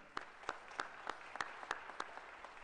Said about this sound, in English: I think that's worthy of some applause.